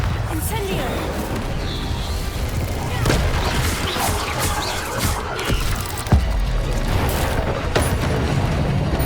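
A fire spell cast in Hogwarts Legacy bursts with rumbling, booming impacts over a dense game soundscape, with a sharper hit near the middle and steady loud crackle throughout.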